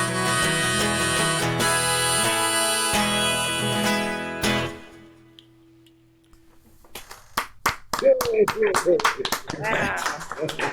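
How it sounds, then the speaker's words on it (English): A small live audience claps after a song, with scattered, uneven hand claps building near the end, following a sustained musical chord that fades into quiet. "Thanks for the clap."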